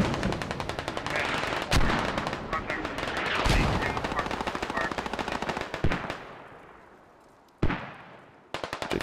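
Steady rapid machine-gun fire in the military shooter Squad, a continuous rattling stream of shots with a few louder heavy booms, running under a speaking voice before thinning toward the end.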